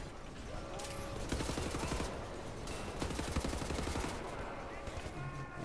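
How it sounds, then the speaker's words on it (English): Rapid machine gun fire from a stationary emplacement in the shooter Wolfenstein: The New Order, sustained bursts of sharp, rattling shots with mechanical clatter, fairly close. "maybe if I can take out that stationary machine gun"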